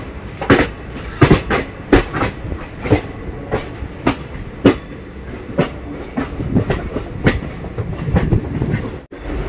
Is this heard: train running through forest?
yes